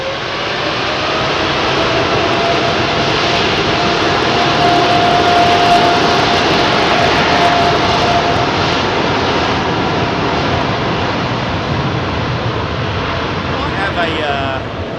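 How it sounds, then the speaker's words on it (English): An aircraft engine runs up on the ground at Heathrow Airport, making a loud, continuous broadband roar with a steady tonal whine. It stays sustained and close throughout, and a voice talks faintly underneath. "Ground run, that's not a taxi."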